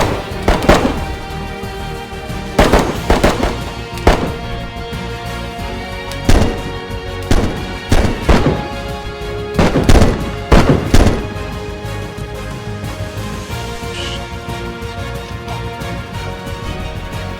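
Gunfire in the video game Blood Ties rings out in sharp, loud bursts and irregular clusters of shots over about eleven seconds, then gives way to a quieter steady background.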